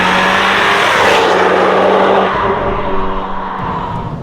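A Volkswagen Golf 8 R accelerates hard, the engine loud and close, with a quick DSG gear change partway through and the drone continuing at a lower pitch.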